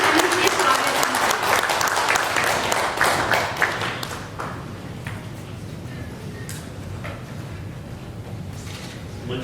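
Applause from an audience at a talk event as a doctor is invited onto the stage; loud clapping at first fades to a lighter patter after about four seconds, with some background voices.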